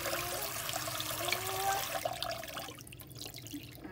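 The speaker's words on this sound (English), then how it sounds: "I put my basil seeds in a cup, and then I'm just going to add some water here" Water is poured from above into a cup holding basil seeds, a continuous trickling splash that carries on for a few seconds before thinning out into scattered drips.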